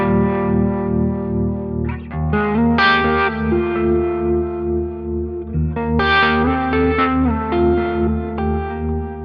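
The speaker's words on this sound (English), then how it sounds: "I've got a transistor tape delay on this first path here, and I've got a reverb on the second path in parallel." Electric guitar played through a Line 6 Helix with a transistor tape delay and parallel modulated reverb, giving a compressed clean tone; chorused, echoing chords and melodic phrases ring out loud and close with long trailing repeats, no talking.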